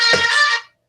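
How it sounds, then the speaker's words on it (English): An alarm clock goes off with a bright, bugle-like tonal melody, loud and close, cutting off abruptly after under a second. "That's my alarm. I got up before my alarm."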